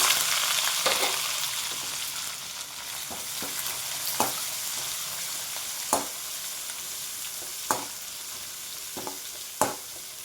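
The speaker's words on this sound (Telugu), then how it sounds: "పోపు కొంచెం వేగిన తర్వాత సన్నగా కట్ చేసుకున్న ఆనియన్స్ని యాడ్ చేసుకోవాలండి" Finely chopped onions frying in hot oil over a mustard seed and cumin tempering, a steady close sizzle broken by occasional sharp spoon clinks and pops against the pan.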